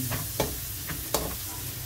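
Garlic frying in a pan for chopsuey, a steady close sizzle with a few brief stirring scrapes and clinks breaking through.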